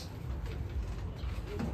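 Pigeons of a fancy breed coo softly in a loft, low murmuring calls under a steady background hum with no talking.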